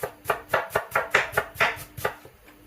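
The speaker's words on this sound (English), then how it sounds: "now we're going to slice, slice, slice, slice, slice" Knife slicing aubergine on a chopping board, about ten close, evenly spaced chops in a steady rhythm with no voices.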